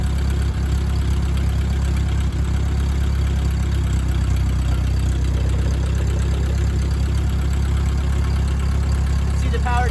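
A Ford 8N tractor engine runs at a steady idle with its power takeoff spinning, a continuous low, even rumble heard close up.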